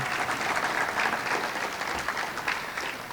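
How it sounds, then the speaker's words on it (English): Brief applause for a director of operations at an event held in a chapel, dense clapping from a crowd at moderate loudness that fades slightly toward the end. "give him a round of applause so we can hear it back in the chapel"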